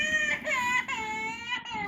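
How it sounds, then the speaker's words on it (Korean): A SunBaby Care infant training doll gives a recorded baby-cry alarm, a steady wailing cry with brief breaks, heard close and clear. "이와 같이 목이 과도하게 꺾였을 경우에 아기가 울게 됩니다."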